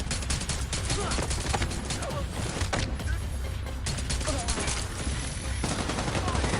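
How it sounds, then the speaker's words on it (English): Pistol gunfire in The Division 2 video game makes a dense, loud burst of rapid shots that keeps going without a break, mixed with other gunfire and combat noise. "You can see how this pistol is just taking them out."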